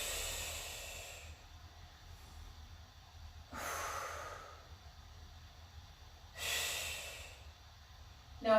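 Forceful breaths exhaled during an inner-thigh workout exercise, three strong breathy bursts spaced a few seconds apart, close and fairly loud over a quiet background.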